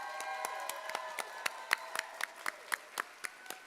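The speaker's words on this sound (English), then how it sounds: "Let's give another huge round of applause for our top 10 contestants." Scattered applause from a pageant audience cheering the top ten contestants: a few sparse, distinct hand claps repeating irregularly at moderate distance, fairly faint and alone without talk.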